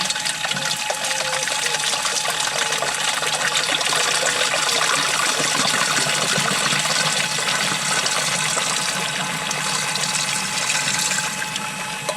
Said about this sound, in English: And let's get the water in.